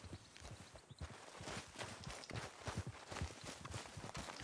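Horse hooves clip-clop steadily on the ground in Red Dead Redemption 2, a close, even walking rhythm with soft ambient noise and no voices.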